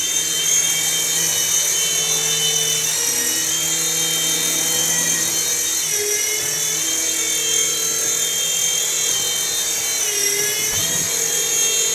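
DEE beginner RC helicopter hovering and settling onto a helipad, a steady close high-pitched rotor and motor whine held throughout with slight pitch shifts near the landing.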